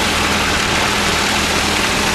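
A tractor engine runs steadily while being driven in low gear through muddy ground, a loud continuous low rumble with broadband mechanical noise and no talking.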